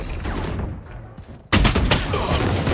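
Gunfire in the shooter game Valorant: rapid close bursts of shots, with quieter firing first, then a sudden loud volley at the midpoint that keeps crackling in quick succession until the end.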